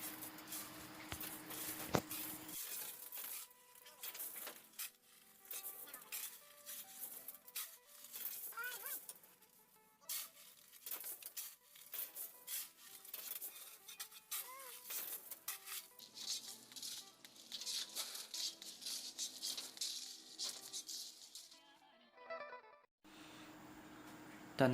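Sand shoveled by hand onto a truck outdoors on an overcast morning, after a load of stones: irregular gritty scrapes and pouring thuds, fairly faint, with occasional distant voices.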